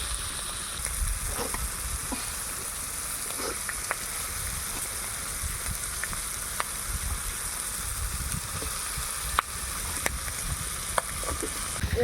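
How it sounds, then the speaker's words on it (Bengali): Onion, chilli and prawns fry in a pan in a steady, moderate sizzle, broken by scattered sharp clicks and scrapes of stirring, with no talk over it. "পেঁয়াজ লঙ্কাটা অল্প করে ভেজে নিয়ে চিংড়ি মাছগুলো দেবো"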